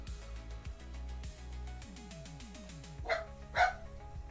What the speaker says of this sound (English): I have a little dog barking.